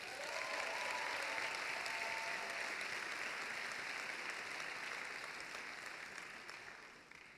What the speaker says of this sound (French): Je vous demande d'applaudir très fort Clément Favier